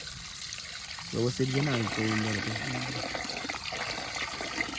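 Tap water runs steadily while raw chicken is rinsed clean of blood in a village setting, a continuous close trickle and splash beneath people speaking, including a brief sung or drawn-out voice.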